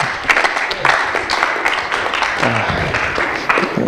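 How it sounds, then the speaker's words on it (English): An audience claps together in a steady, dense burst of applause that runs loud and continuous for the whole stretch, with scattered sharper individual claps on top. "let's give a hand clap"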